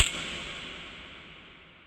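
A single crash-cymbal-like percussion hit drenched in heavy reverb. A sharp attack opens into a bright, hissing wash that fades slowly over about two seconds, heard alone.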